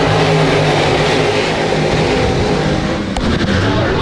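Dirt late model race cars roar past together on the Genesee dirt track during a heat race, a loud, dense engine drone that never lets up. A brief sharper rattle cuts through near the end.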